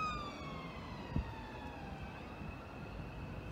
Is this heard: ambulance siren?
yes